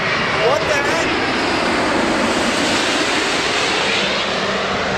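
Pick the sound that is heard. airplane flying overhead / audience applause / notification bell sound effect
airplane flying overhead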